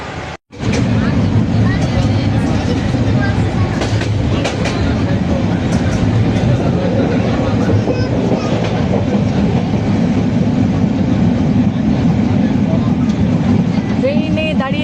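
A passenger train halted at a station, carrying a loud, steady broadband rumble and hum with a brief dropout near the start, close and continuous throughout.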